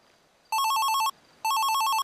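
A telephone rings in the GTA V video game during a 1970s-themed roleplay, two loud electronic bell bursts of about half a second each, separated by a short pause.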